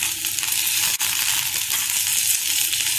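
Onions, tomatoes and chillies sautéing in a pan for a Bermuda grass chutney, a steady loud crackling sizzle with no pause except one brief dip.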